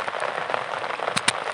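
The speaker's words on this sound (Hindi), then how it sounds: "ये बारिश 3 दिन से बहुत परेशान कर रही है" Steady rain falls on surfaces in a village, a dense continuous hiss with scattered drop patter and two sharp taps near the end, close by with no voices.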